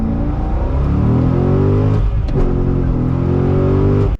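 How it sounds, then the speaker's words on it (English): A 2008 Corvette Z06 pulls hard in first gear on a dry paved road, its engine roaring loud and close as the revs climb steadily, dip briefly midway, then climb again before cutting off. "I can stand on it in first gear on a nice, dry, paved road"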